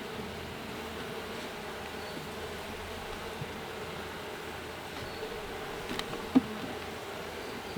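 Honey bees hum around an opened hive in an apiary, a steady close buzzing swarm with occasional light knocks and rustles of frames.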